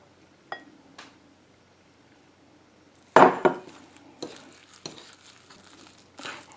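An egg is stirred into a salmon patty mixture in a bowl: a few light clinks at first, then a loud wet clatter followed by scattered scrapes and taps of mixing, with no talking.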